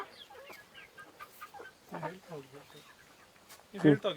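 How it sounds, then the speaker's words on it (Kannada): Large native country chickens, parent birds kept for eggs on a farm, cluck in short bursts with a louder flurry near the end, while a voice is heard among them. "ಇದು ಬಂದುಬಿಟ್ಟು ದೊಡ್ಡ ಗಾತ್ರದ ಕೋಳಿಗಳು ಇವು"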